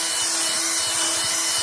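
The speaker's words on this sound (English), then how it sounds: "Now vacuum clean everything in here and also the inside of the box." A vacuum cleaner runs loud and close, a steady high whine with scraping rubs as the nozzle works inside the dirty cabin filter box of an Audi A6 C7.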